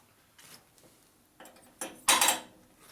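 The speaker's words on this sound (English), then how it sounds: "You put a liberal amount of lapping compound on your valve." A Harley panhead valve being lapped with lapping compound makes short gritty, scraping rasps that grow from faint scratches to a louder grinding burst near the end, with no voices.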